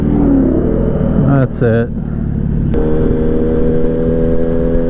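A car engine revs during a race, a loud steady engine drone with rising pitch sweeps and a sharp thump, with a voice speaking briefly over it.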